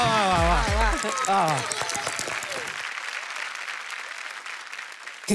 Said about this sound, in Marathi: नानीसाठी जोरदार जोरात टाळ्या.